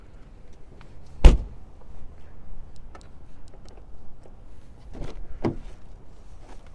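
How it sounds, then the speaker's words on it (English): Rear door of a Honda Accord EX-L opening: one sharp, loud unlatching clunk near the start, then quieter clicks and a second softer thump a few seconds later, with no talking. "as we open up the back door here"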